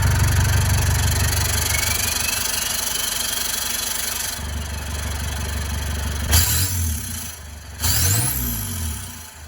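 A car engine cranks and catches, then idles with a steady low rumble and is blipped into two sharp revs near the end, close up and with no talking.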